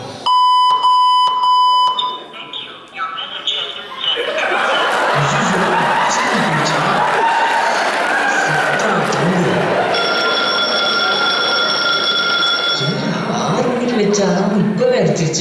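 Morning alarm beeping in short, rapid electronic pulses for about two seconds, followed by voices speaking and a crowd-like background with music.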